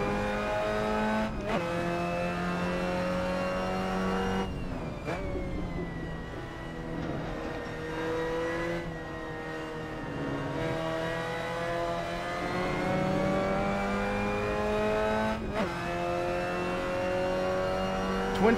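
A Mazda MX-5 engine revs in an Assetto Corsa sim race at Paul Ricard, holding a steady droning note that rises and falls through several throttle and gear changes over about eighteen seconds, moderately loud with no talk.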